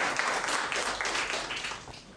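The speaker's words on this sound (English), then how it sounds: "Give a round of applause, please." An audience applauds at a panel discussion, a dense and moderately loud wash of clapping that holds steady for a couple of seconds before easing slightly.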